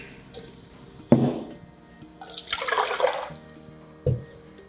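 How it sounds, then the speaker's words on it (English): A drink is poured into a Sum-It cup, a splashing liquid pour between two sharp knocks of the container, heard up close with no talking. "if we pour it into our Summit cup"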